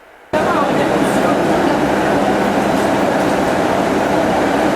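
Regional train at Słupsk station during a rail strike, a loud, steady rumble that starts abruptly after a brief quiet moment and then holds a constant mechanical roar close by.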